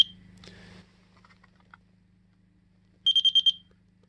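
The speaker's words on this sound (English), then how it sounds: "that constant beep shows you that the voltage is good" A rapid series of about five high electronic beeps from a LightKeeper Pro voltage tester sounds in quick succession after a short quiet stretch with faint handling noise.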